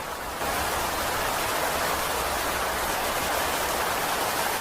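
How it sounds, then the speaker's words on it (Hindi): Heavy rain falls steadily as a dense, even hiss that begins abruptly and holds at constant loudness, with no voices. "बारिश रुकने का नाम नहीं ले रही थी।"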